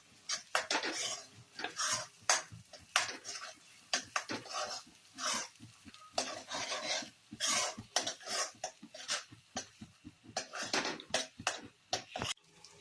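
Ground masala paste being sautéed in oil in a pan for a Khandeshi-style patodi curry, with quiet, irregular scraping and clinking of a spatula against the pan and faint sizzling, no talking.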